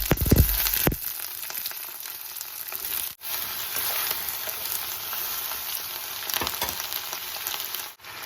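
Cut brinjal pieces land in hot oil with a short clatter, then fry in a pan with a steady, close crackling sizzle that keeps going, with a couple of brief dips where the pan is stirred.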